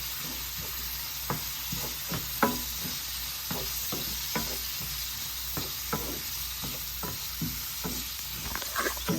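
Shrimp frying in a pan for a pepper shrimp curry, a steady close sizzle with repeated light stirring and scraping clicks over it, and no talk.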